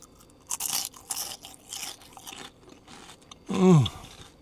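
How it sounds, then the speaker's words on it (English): Loud, close crunching bites into crispy battered fried fish from a fish and chip shop, a series of sharp crackles, then a brief voiced sound at the end. "You ready for the crunch of this batter?"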